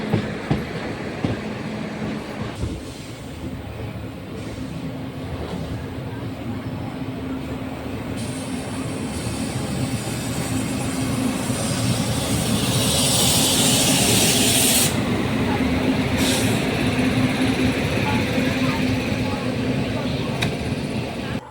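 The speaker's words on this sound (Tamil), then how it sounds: "சரி, நம்ம வண்டி எடுத்துட்டாங்க." The Yercaud Superfast Express, train number 16844, rolls along with a loud continuous rumble and rhythmic clatter of wheels on rails, building steadily as it gathers speed, with a brief hiss of air partway through.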